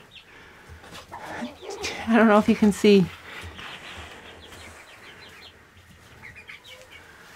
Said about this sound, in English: our chickens are all having a bath this morning